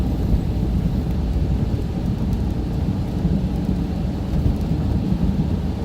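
A thunderstorm over central Indiana pours heavy rain with deep rumbling thunder, a dense, constant roar dominated by low rumble and steady rain hiss, loud and close without any voices.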